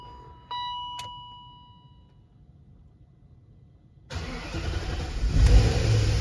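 BMW X5 4.6is V8 after a six-speed manual swap: an electronic chime and a click, then the engine cranks and fires up at about four seconds, settling into a loud, rough, uneven idle.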